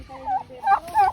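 Chickens in a rural yard in Bikol make quick, close clucking calls in a few short bursts.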